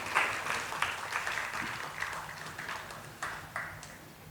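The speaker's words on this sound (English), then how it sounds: "So a huge round of applause for both the gentlemen on stage." Scattered applause from an audience at a conference, faint and fairly distant, with a few sharper individual claps standing out over the thin ripple of hands.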